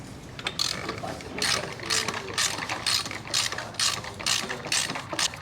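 Wrench snugging a bolt on the drive side of a Lynskey Helix PRO bicycle frame during a Shimano Ultegra 12-speed Di2 build, with repeated ratcheting bursts in a steady rhythm, close and fairly loud, no talking.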